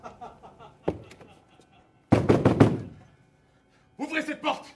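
Knocking on a door: a single knock, then a loud burst of several heavy rapid knocks, set between passages of speech.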